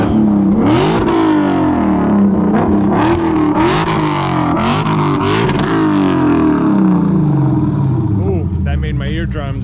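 A powerful 450-horsepower car with a full aftermarket exhaust revs hard and loud with a raspy exhaust, roaring up and down in repeated bursts, with voices audible under the noise.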